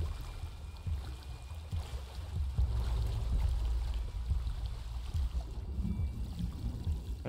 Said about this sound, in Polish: Są jakieś wodospady.